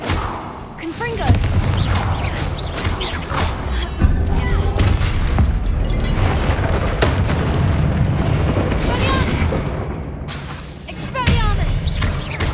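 Repeated booms and blasts from the Confringo fire spell in Hogwarts Legacy, loud and dense, mixed with game effects and someone shouting spell names throughout.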